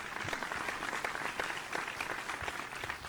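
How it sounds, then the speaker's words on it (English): A television singing competition audience applauds after a vocal contestant's performance. Continuous crowd clapping sounds fairly distant and soft, with a faint murmur of voices mixed in. "Folks, another round of applause, please"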